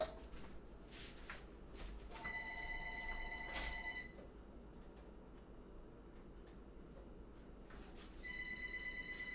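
A telephone rings in repeated electronic bursts, pausing briefly between rings, fairly close and moderately loud in a quiet room.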